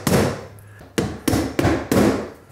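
A hammer drives nails into metal drywall corner bead, giving five sharp, loud strikes at an uneven pace, each with a short ringing decay.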